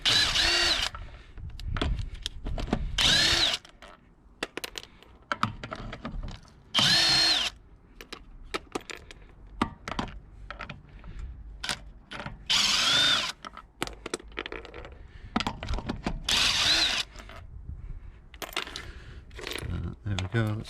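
A power tool spins wheel nuts off a Saab 9-3 in repeated loud bursts of a few seconds each, close by, with clinks and handling noises in between and someone talking over parts of it.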